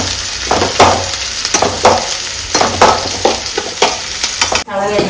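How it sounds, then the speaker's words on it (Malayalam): Onions fry in a pan with a steady close sizzle while a spoon scrapes and stirs them in regular strokes about once a second. "നന്നായിട്ടൊന്ന് മൂപ്പിക്കട്ടെ കരണ്ട് പോയി അപ്പോഴേക്കും ഉള്ളി മൂത്ത് വരുന്നതന്നെ ഉള്ളൂ"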